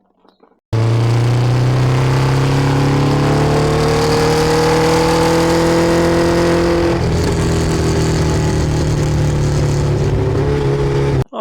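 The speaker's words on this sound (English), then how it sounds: "That 3-cylinder engine and the howl that it makes." A loud three-cylinder motorcycle engine howls steadily for about ten seconds, its pitch rising and falling smoothly as it revs, with no talking.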